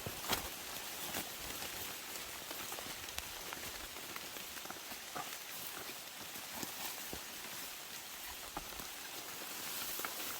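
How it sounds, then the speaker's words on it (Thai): Rain falls outdoors in a rural hillside setting, a steady faint hiss of drops spattering on surfaces with occasional sharper taps throughout. "แต่ว่าวันนี้ฝนตกอะ่ะ เมื่อกี้ยังไม่ตกนะคะเพิ่งตกลงมา"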